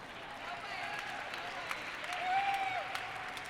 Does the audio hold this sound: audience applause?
yes